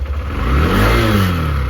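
A motorbike soaked in monsoon rain fires up and revs, its engine rising in a loud swelling whine then settling, close by with a hiss of rain underneath and no talk.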